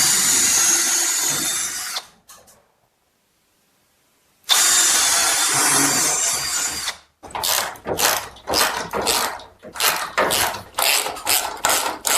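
A power drill whirs in two long sustained bursts separated by silence, followed by a series of short rhythmic pulses as the bit bites in, close by, drilling mounting holes for an overhead garage storage rack bracket.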